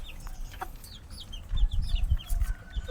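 Sweater Gilmore gamefowl chickens cluck and chirp in short repeated calls, with low rustling and thumping of the birds moving close by.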